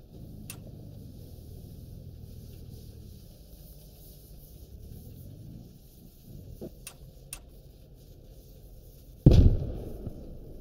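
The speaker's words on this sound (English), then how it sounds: "That was a friendly nade." Grenade explosion in the tactical shooter game Squad: a single sharp, loud blast near the end after quieter ambient battlefield noise with faint ticks and distant pops.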